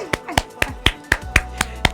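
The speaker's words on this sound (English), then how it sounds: "Deserves a round of applause." Applause at a fashion event: about eight sharp, evenly spaced claps in two seconds, close and crisp, with no other sound between them.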